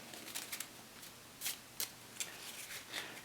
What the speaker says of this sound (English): Then you shuffle a spell deck.